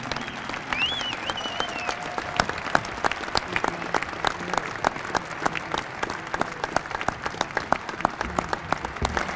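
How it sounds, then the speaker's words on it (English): A banquet audience claps warmly for five inductees at the 2013 Utah Sports Hall of Fame ceremony, a dense, sustained round of applause that fills the room, with scattered voices mixed in. "How about another applause for all of tonight's 5 inductees?"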